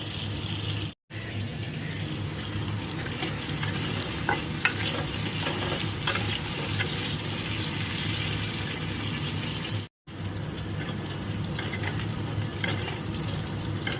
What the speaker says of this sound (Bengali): মাছগুলো আমি ভেজে নিচ্ছি এক এক করে